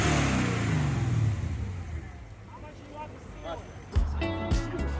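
A BMW E34 540i engine rumbles and revs with its exhaust valves closed, fairly loud and steady, with voices talking over it and a sharp burst partway through.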